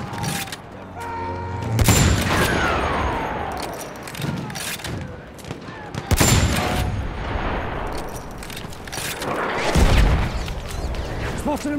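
Machine gun fire and explosions from a Battlefield 1 Operations battle, with repeated bursts of automatic gunfire and heavy booms over a constant din of combat, loud and close, while voices call out beneath it.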